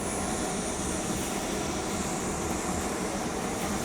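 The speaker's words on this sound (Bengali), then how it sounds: "রফালের দরজা ইঞ্জিন চালু হলো" A Rafale fighter jet's engine runs after start-up at Ambala air base, a dense, continuous roar with a hissing edge that holds steady and loud throughout.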